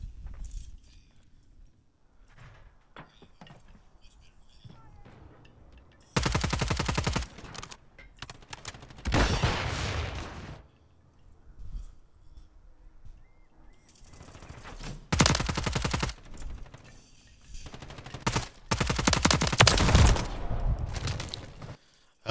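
Gunfire in Call of Duty: Modern Warfare III, with several loud bursts of rapid automatic fire between quieter stretches of footsteps and movement, heard close without talking.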